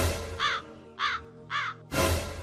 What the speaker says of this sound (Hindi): कौवे की आवाज सुनकर चिड़िया गुस्से से घोंसले से बाहर आती है।